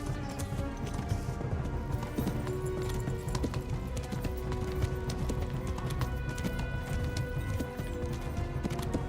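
Rapid, continuous hoofbeats of a horse in the video game Kingdom Come: Deliverance clatter in a steady galloping rhythm, dense and unbroken, with faint mechanical background sounds.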